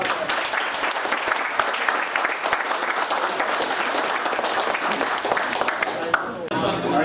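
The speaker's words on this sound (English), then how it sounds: "Let's give him another round of applause." Applause from a reef-keeping club meeting audience for a guest speaker, sustained close clapping from a room of people, with talk mixed in and a brief dip near the end.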